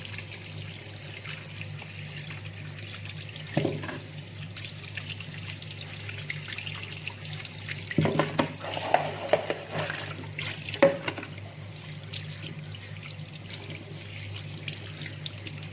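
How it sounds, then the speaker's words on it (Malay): Galangal and turmeric are rinsed under a running tap, a steady trickle of water with a few brief louder splashes and handling knocks, no voices. "Cuci lengkuas. Dengan kunyit."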